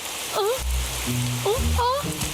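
Steady rain hiss fills the background while short voice-like sounds and low tones come and go over it.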